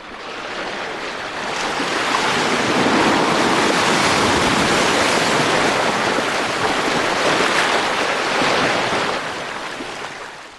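Ocean surf washing onto the shore at Kiixin, a traditional beachfront village on Vancouver Island, as a broad continuous roar of breaking waves with wind, swelling slightly and staying steady throughout, no voices.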